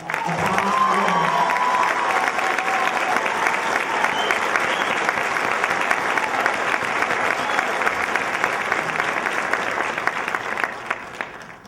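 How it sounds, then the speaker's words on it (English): Sustained audience applause fills a hall at a 2009 Florida Apartment Association Hall of Fame awards ceremony, a dense, steady wash of many hands clapping at even loudness for the full stretch, with no voices over it. "Would you please give a round of applause to Donna Reiter"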